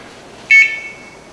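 A kitchen timer beeping once as it is set for baking pizza, a single sharp electronic tone lasting about a tenth of a second that rings out briefly in a quiet room.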